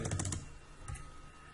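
Rapid run of close, crisp keystrokes on a computer keyboard while coding in a text editor, a dense burst of clicks up front, a pause, then a few scattered taps, with no talk.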